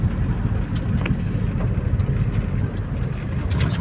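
A tricycle's engine labours along a freshly paved road, a steady low rumble and drone with a faint rattling texture, close and continuous.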